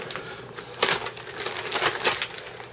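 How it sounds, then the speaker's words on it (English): Survival kit items such as iodine being pulled from plastic packaging, with several sharp crinkling and crunching bursts of plastic up close, coming in irregular clusters. "I guess I can take these out of the package"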